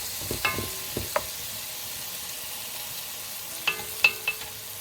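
Veal pieces browning in a pan for a Provençal blanquette, a steady low sizzle under a few sharp clicks of utensils at the start and a cluster of clinks near the end, with no talking.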